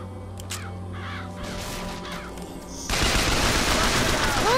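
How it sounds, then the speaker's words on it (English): Summoned crows caw in the video game Bioshock Infinite amid a loud wash of combat noise and gunfire, the harsh calls rising over a steady din that suddenly swells louder near the end. "Summon murderous crows."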